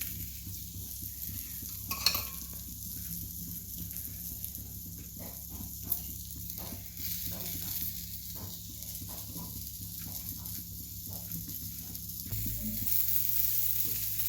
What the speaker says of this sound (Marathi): बघा हे पण मासं मी तसंच तळून घेते